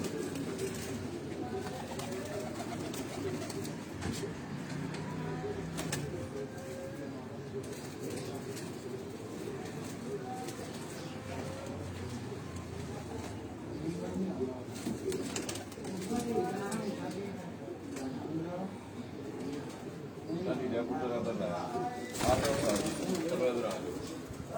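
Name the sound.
Cheena pigeons cooing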